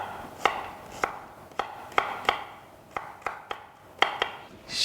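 Onions being roughly chopped with a sharp knife on a board, a string of about ten crisp, irregular knife strikes, close and fairly quiet, with no talk.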